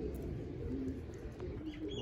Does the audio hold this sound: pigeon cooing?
yes